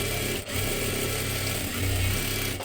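Close, steady whir of a sewing machine running a second line of stitching on a fancy frock cut from a net saree, continuous with only a brief dip.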